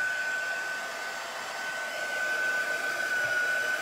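A hair dryer blows steadily on paint on a t-shirt, a constant close whirring hiss with a thin high whine that runs unbroken throughout.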